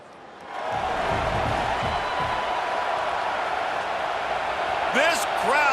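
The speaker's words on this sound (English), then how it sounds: "This crowd busting the decibel meter and trying to will a 4th down stop." Stadium crowd in an EA Sports College Football 26 game roars steadily and loudly throughout, a dense wash of noise with a few sharp whistles near the end.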